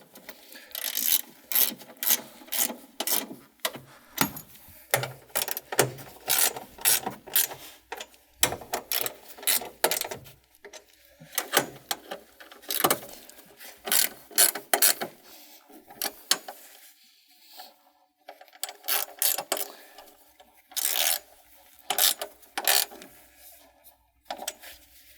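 A ratchet tightens 12V battery hardware in a Volkswagen ID.4, rapid close clicking strokes in irregular bursts with brief pauses between them.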